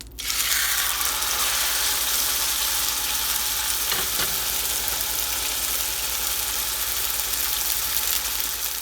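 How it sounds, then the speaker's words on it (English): Beef browning in a hot pan before going into the oven for pot roast, a loud continuous sizzle that stays steady throughout with one brief shift partway, no voices. "And now I'm going to brown before putting in the oven."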